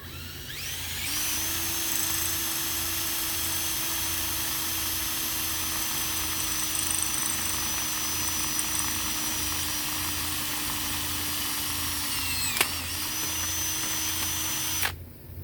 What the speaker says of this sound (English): we're just going to line it up and drill straight through.